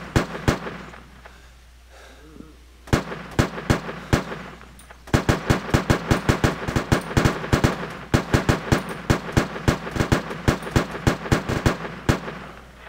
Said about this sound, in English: that's a lot of gunshots